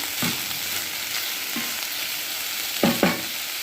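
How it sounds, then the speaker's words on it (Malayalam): Garlic and curry leaves frying in a small pan of oil, a soft continuous sizzle with a few sharp stirring clinks near the end, close and alone with no talking. "ഞാനൊരു പാത്രത്തിൽ കുറച്ച് എണ്ണ ഒഴിച്ചിട്ടുണ്ട് ഇനി അതിലേക്ക് നമുക്ക് വെളുത്തുള്ളിയാണ് ഇട്ട് കൊടുക്കുന്നത്"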